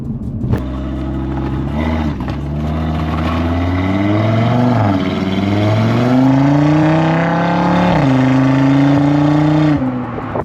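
An Audi RS3 8Y five-cylinder with turbo and Milltek exhaust pulling hard from inside the car, a loud steady engine drone climbing in pitch through gears, dipping at each shift.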